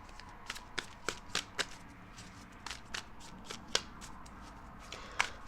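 A deck of tarot cards is shuffled by hand, giving a series of quick crisp riffling snaps and flutters at an uneven rhythm, close and moderately quiet with no speech.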